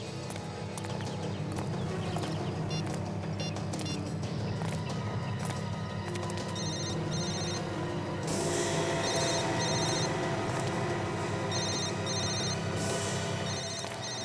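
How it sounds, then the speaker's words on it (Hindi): A mobile phone rings close by during a police search scene in a TV crime drama, its repeated bright ringtone bursts sounding over steady background music and ambience. "विवेक, जरा उसको फोन लगा।"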